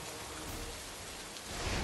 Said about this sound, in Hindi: जाते जाते वो एक जंगल में पहुँचे ही थे, तभी बारिश शुरू हो गई।